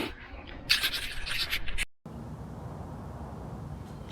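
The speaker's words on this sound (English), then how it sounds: "And I'm going to sand some edges" Sanding the edges of a homemade dust collector panel in a workshop produces a short burst of close, raspy rubbing strokes that stops abruptly, leaving a low background hiss.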